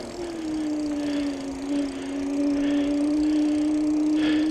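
A Velotric Summit 1 electric mountain bike under throttle climbing a hill gives a steady, close motor whine holding a constant pitch, over tire and trail rumble with no voices.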